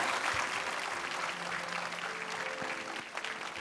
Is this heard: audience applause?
yes